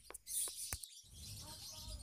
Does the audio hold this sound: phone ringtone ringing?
no